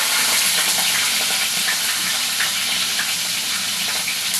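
Chopped onion with green chilli frying in oil in a pan while cooking a chicken gizzard and liver dish, a steady close sizzle with bubbling and crackle throughout and no voices.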